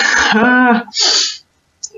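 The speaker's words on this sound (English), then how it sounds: "Oh, I'm about to sneeze, sorry." A single sharp sneeze bursts out up close, preceded by a short vocal intake and followed by silence.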